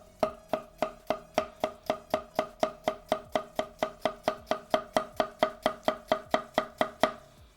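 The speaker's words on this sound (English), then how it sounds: "Let's cut into some cucumber here." Steinbrucke Santoku knife slicing through cucumber on a board, about twenty-five crisp, evenly spaced chops in a steady rhythm, close and clear with no talking.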